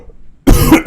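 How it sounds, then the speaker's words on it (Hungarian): Near silence, then a single loud, close cough bursts in about halfway through and breaks off with a short second huff at the end. "úgyhogy köhögni fogok"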